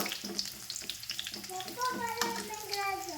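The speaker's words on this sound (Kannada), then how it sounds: "ಒಂದು ಸ್ವಲ್ಪ ಬೆಳ್ಳುಳ್ಳಿ ಗೋಲ್ಡನ್ ಕಲರ್ ಬರೋಂಗೆ ಫ್ರೈ ಹೋಗ್ಬೇಕು ರೀ" Garlic sizzling and frying in a pan until golden, a steady crackling hiss throughout with a voice speaking faintly over it partway through.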